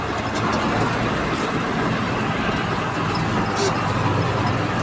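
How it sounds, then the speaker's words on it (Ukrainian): MTZ-1221 tractor engine running steadily while driving, a loud continuous low rumble with broadband mechanical noise throughout, no talk over it. "цей трактор не хоче їхати"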